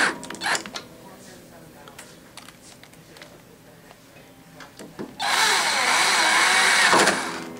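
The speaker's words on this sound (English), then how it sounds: "Here I'm using a number 1 size Phillips drive to screw these small screws in." Small screws are driven in with a number 1 Phillips screwdriver while fitting universal or Jordan levers, producing faint, intermittent scraping and clicking up close, then a louder, sustained grinding burst near the end.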